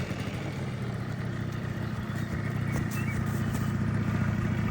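A scooter engine runs at a steady idle-like hum, close and continuous with a faint clattering texture, no speech over it.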